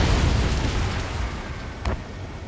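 An enemy UAV blows up in the Ace Combat 7 flight game, a loud rumbling explosion that fades over a couple of seconds, with a short sharp burst near the end.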